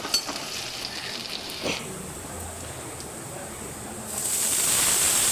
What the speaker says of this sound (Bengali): তারপর সব কিছুকে ভালো করে ভেজে নিয়ে